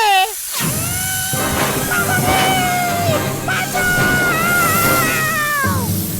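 Animated cartoon characters let out loud, sustained wavering screams and shrieks, close and continuous, with a moment of silence just before they begin.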